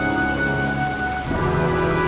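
Steady rain hisses continuously in the video game Heavy Rain, with a low rumble of an approaching storm and a faint tonal hum underneath; it stays loud and even throughout.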